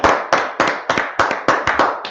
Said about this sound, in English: I'm going to clap it up for the Lord